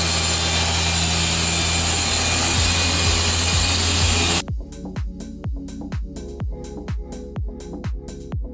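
Small polisher working the paint on a Corvette C8 Z06 whirs loudly and steadily for about four seconds, then cuts off, followed by a string of sharp, evenly spaced clicks and taps.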